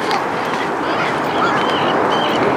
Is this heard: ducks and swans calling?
yes